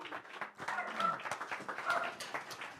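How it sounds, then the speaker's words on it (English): A round of applause and claps greet Reverend Rudy Columbini at an Easter community gathering, a scattered, lively clatter of hands from a small audience, steady for a few seconds with a faint squeak or yelp in the mix. "let's give a nice round of applause for Reverend Rudy Columbini"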